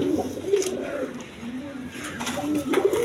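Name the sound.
pigeons cooing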